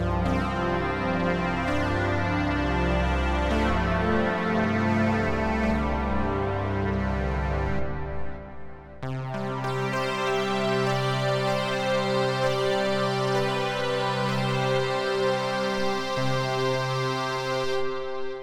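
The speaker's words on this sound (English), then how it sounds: "Let's go to a simplified patch and just explore some of these Bezier curve wavetables." Bezier curve wavetables on a ModWave synthesizer, a simplified patch: sustained, bright harmonic synth tones shift timbre continuously, with a clear change of chord and texture about halfway through, playing loud and steady with no voices.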